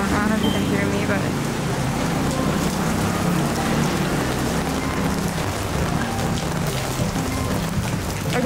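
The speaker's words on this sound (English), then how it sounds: "Oh, it's raining!" Steady rain falls on a street in Taiwan, a dense continuous hiss with traffic rumbling underneath and a voice speaking over it.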